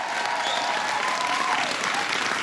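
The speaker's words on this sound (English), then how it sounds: "Give him a big round of applause." Audience applause fills a hall at a presidential speech on the Affordable Care Act in Boston, Massachusetts: steady, dense clapping from a large crowd that holds a level roar for the whole stretch.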